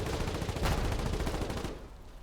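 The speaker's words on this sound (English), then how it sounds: "There was another ridge they were shooting down on us from." Dense rapid gunfire in the war video game Foxhole, a continuous rattling burst of overlapping shots that fills the clip at close range and tails off near the end, with no talking.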